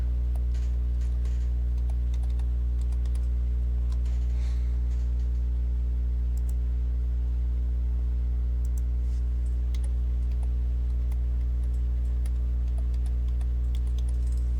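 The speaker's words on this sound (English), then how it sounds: "I'm going to type in controller" Typing on a computer keyboard: soft, scattered key clicks come and go over a loud, steady mains hum, with no one speaking.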